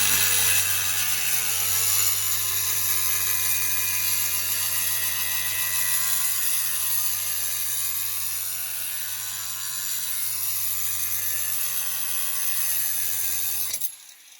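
A cheap Chinese oscillating multi-tool set to 4000 rpm cuts steadily, a close, loud, continuous buzzing whine with a harsh rasp that holds for about fourteen seconds before stopping abruptly.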